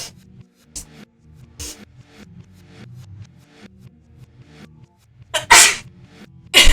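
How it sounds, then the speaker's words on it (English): A person sneezes repeatedly, with several loud sharp sneezes spaced across the stretch amid quieter breathing and rustling, the strongest bursts coming near the end. "I have been sneezing all day"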